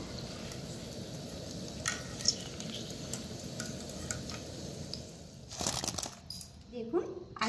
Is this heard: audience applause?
no